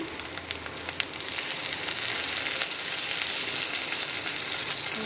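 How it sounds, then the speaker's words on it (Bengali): Ground ginger, garlic and dried chilli paste hits hot oil with fried onions in a crab dish, bursting into a loud, dense and steady sizzle that carries on evenly after a few sharp crackles at the start, with no speech. "এবার এতে আমরা বেটে রাখা কিছু মশলা দিয়ে দিচ্ছি।"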